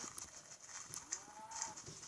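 A cow mooing in a block-building video game, a faint low drawn-out moo partway through, accompanied by soft clicking game sounds and no speech.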